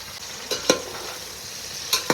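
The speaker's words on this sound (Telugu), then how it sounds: "అన్నీ బాగా కలిపి బ్రౌన్ రంగు వచ్చే వరకు వేయించుకోవాలండి." Potatoes and eggplant frying with onion, tomato, green chilli, coriander and mint for a spicy pulav, with a steady soft sizzle broken by two sharp scraping stirs of a spoon in the pan.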